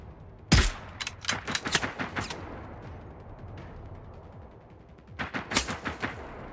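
A robot dog in the video game Generation Zero fires loud bursts of automatic gunfire: one sharp opening shot, then a rapid rattling volley, a quiet stretch, and another burst near the end.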